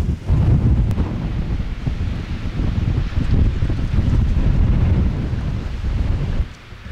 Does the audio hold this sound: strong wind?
yes